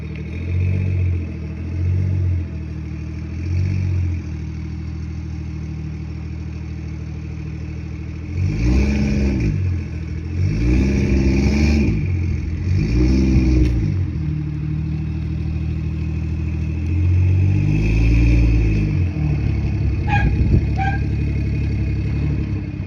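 A BMW 440i, 540i or 340i engine idles, then revs in several surges as the car reverses, a close, fairly loud mechanical rumble with no talk.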